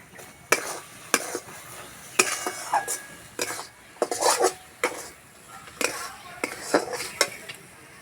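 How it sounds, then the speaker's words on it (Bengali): Leftover rice with salt being stirred in a pan, with a utensil repeatedly scraping and clinking against the metal in uneven bursts over a faint sizzle, close and fairly loud, no talk. "এইভাবে নাড়তে নাড়তে একটা ঝরঝরে ভাব হয়ে যাবে।"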